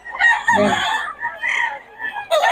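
A pure Kelso gamefowl rooster crows loud and close in a series of hoarse bursts, mixed with clucking from nearby fowl.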